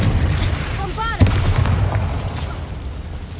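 A Bombarda blast spell from the video game Hogwarts Legacy bursts once with a sharp booming impact in the middle of ongoing game sound, with rising magical whooshing tones before it and a rumbling tail after.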